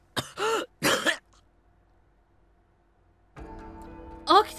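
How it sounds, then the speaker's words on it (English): Two sharp, harsh coughs close up from a character in the video game Hakuoki, followed by quiet, then a low rumble of background music and another short cough. "I heard Okita begin to cough"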